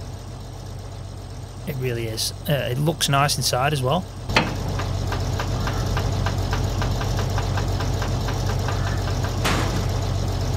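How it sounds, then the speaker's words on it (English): A harvester engine idles in Farming Simulator 22, a steady low rumble with a rhythmic knocking pulse running throughout; someone talks over the start before the engine carries on alone. "I don't know if you can hear the engine on that, but it is spot on."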